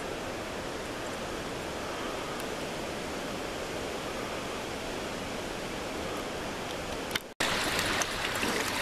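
Small creek running after a night of hard rain, a steady broadband rushing of flowing water close by, continuous and even, with a brief handling knock near the end.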